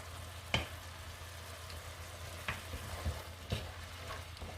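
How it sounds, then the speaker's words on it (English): Sweet and spicy mixed seafood sauce bubbling in a pan, with a low steady sizzle and occasional sharp pops and spoon clicks, close and fairly quiet with no talking. "cook until the sauce is sticky"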